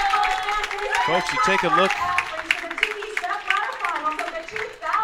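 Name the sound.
audience applause for bowler Daria Pyle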